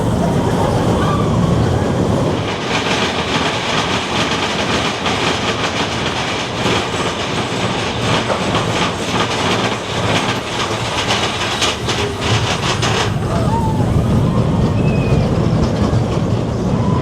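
Big Thunder Mountain roller coaster train at Disneyland Paris running its track: loud continuous rumbling and clattering of wheels on rails with rattling car noise, close and sustained, a faint voice now and then.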